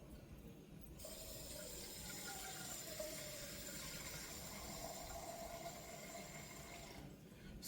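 A kitchen tap runs steadily into a cooking pot, a constant hissing stream of water that starts abruptly after a second and stops near the end, fairly quiet and close.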